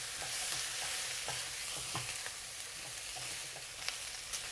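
Pork belly being stirred in a hot wok with Chinese cooking wine, a steady sizzle under repeated soft scraping strokes from a spatula, close and fairly quiet, no voices.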